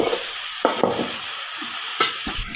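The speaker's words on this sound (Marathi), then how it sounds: "तर चला पुन्हा एकदा परतून घेऊ आपण" Green chickpea harbara bhaji is stir-fried in a pan, a soft sizzle under a few scraping spatula strokes that come in short bursts, close and with no talking.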